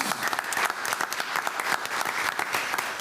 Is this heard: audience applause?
yes